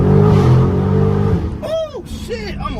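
A Dodge Challenger Scat Pack widebody roars under hard acceleration, its loud close engine note climbing and dropping through gear changes, with voices speaking over it.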